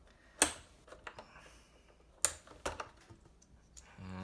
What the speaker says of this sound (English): we're just gonna pull this off, each keycap one by one